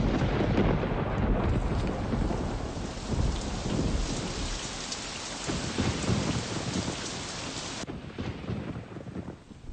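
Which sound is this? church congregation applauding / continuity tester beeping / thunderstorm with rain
thunderstorm with rain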